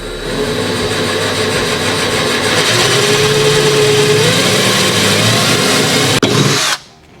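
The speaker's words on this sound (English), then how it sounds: "taking a specially ordered 10mm drill bit, we're going to drill right into the mark" A power drill with a 10mm bit whines steadily and loudly for about six seconds while drilling into a Toyota Tacoma's panel, its motor pitch rising slightly midway, then it stops abruptly.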